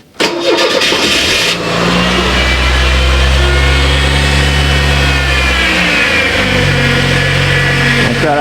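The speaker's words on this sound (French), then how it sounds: "la pompe de direction assistée se plaint un petit peu" A Ford Mustang engine cranks, catches and settles into a steady, loud running drone, with a thin whine from a power steering pump on a leaking steering rack rising over it.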